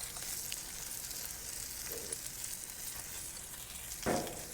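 A frozen steak sizzles on a flat top griddle, a faint steady hiss of frying fat with a brief louder crackle near the end.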